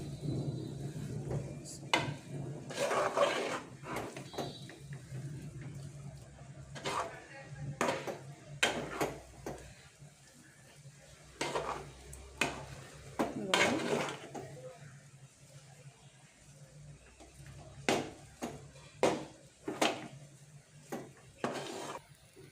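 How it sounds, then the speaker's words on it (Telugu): Dough is mixed with a little oil in a pan for a traditional sweet, with repeated scraping and clinking of a utensil against metal in irregular bursts, close and moderately loud, while a voice speaks between strokes. "ఇప్పుడు కొద్దిగా ఆయిల్ వేసుకొని కలపండి"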